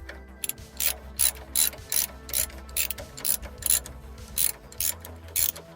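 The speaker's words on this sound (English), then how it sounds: "That's a 15. I'm going to crack that off" Socket-set ratchet cracking off a 15 mm bolt on a Ford Fiesta Mk6 driveshaft, a steady run of close, loud rhythmic clicking strokes, roughly a dozen pulls back and forth with no voices.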